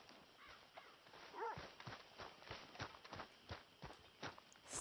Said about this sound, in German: Jetzt ist die Frage, welches Pferd kommt überall angeritten?